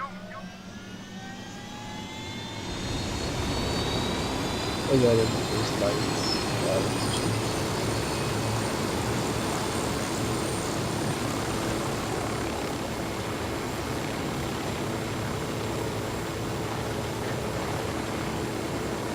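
A helicopter in Ghost Recon Wildlands holds a steady, loud rotor and engine drone from a few seconds in through to the end, with players talking briefly over it.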